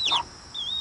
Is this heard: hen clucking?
yes